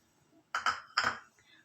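A spoon stirs chicken gravy with fresh coriander and mint in a pan, making two quick clattering bursts of metal against the pan, moderately loud and close, followed by a faint scrape.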